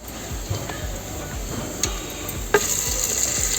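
Ginger paste frying with mutton in a pan over a wood fire, a steady close sizzle broken by repeated scraping stir strokes and a couple of sharp clinks, with no talking.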